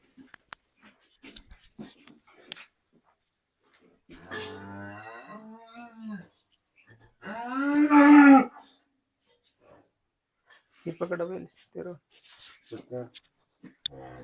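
A cow lets out one loud, drawn-out moo nearby, with people talking before and after it, at a cow sale.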